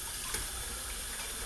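A kitchen tap runs steadily into a sink while a cutting board is washed in hot soapy water, a constant close rush of water with a brief clink near the start.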